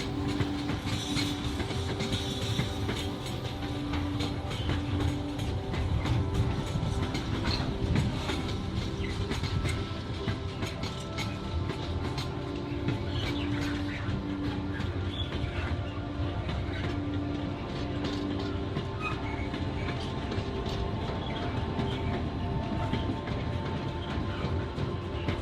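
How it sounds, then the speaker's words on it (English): A London-bound train pulling into platform 3 on the Wirral line toward Birkenhead Woodside, a loud steady rumble with clattering wheels and a faint hiss running throughout. "the London train heading towards Birkenhead Woodsides arrives on platform 3"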